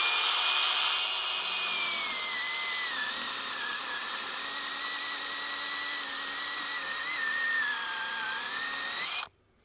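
A Dnipro-M CS-12 cordless mini saw cuts through wood under its own weight, a loud, continuous high buzzing whine that shifts slightly in pitch as the blade bites, running for nearly ten seconds before cutting out abruptly, with no talking.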